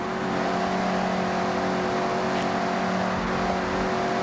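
A Mazda MX-5 in the racing game Forza Horizon 6 holds a steady, loud engine drone under a smooth layer of tyre and road noise, with no talking.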